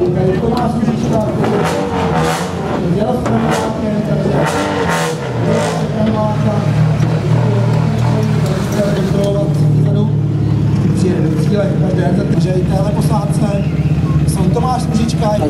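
A rally car's loud engine revs hard and roars off a start ramp at the Barum Czech Rally Zlín 2012, with announcer-style talking in Czech over the rumble and crowd noise throughout.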